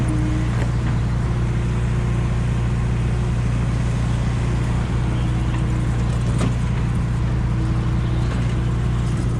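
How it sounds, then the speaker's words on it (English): RC cars racing on a turf track, a constant buzzing whine of small electric motors blended with a steady low hum, continuous and fairly loud throughout. "Aaron the fastest car on the track right now."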